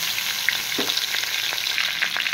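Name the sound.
vegetable stalks and potatoes frying in a wok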